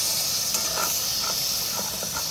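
Malvani masala frying in a pan for goat blood mutton curry, cooked outdoors: a steady, close hiss of sizzling oil runs throughout, with faint stirring scrapes and no talk.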